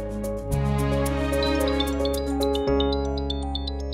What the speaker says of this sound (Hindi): मॉम का फोन।